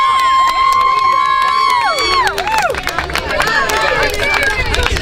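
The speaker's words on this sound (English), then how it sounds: "So please, a big applause for our teachers." A crowd cheers and whoops, with shouts rising over a busy, noisy hall; applause-like clatter grows toward the end.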